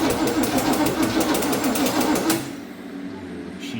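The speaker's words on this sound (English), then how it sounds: "Starter engaged, but it didn't hit the starter ring." The starter on a worn 1984 square-body Chevrolet K20 dump truck engages without catching the starter ring, giving a fast, steady mechanical whir and rapid ticking for about two seconds, then cuts off, leaving a quieter hum.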